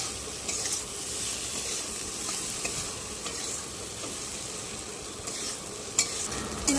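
Onions fry in a hot pan while being stirred, a steady close sizzle with scraping spatula strokes and a few sharper clicks, with no voices.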